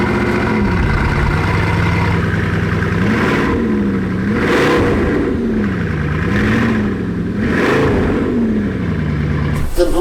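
A Bugatti Chiron with full exhaust revs repeatedly, the engine note rising and falling in several smooth swells over a steady idle, loud and close with no voices.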